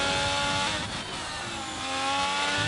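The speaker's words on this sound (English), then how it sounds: "It sounds like another red car just coming out there" Race car engine in a racing video game, apparently an Alfa Romeo on the Jeddah circuit, roaring steadily with a dense harmonic whine throughout, loud and close, briefly dipping near the middle.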